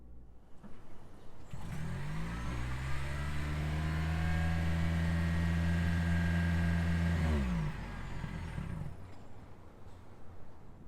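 A 2022 Lexus ES 300h F Sport hybrid sedan pulls away, its engine note rising smoothly with a steady tonal hum for several seconds before easing back, heard from inside the car with no talking.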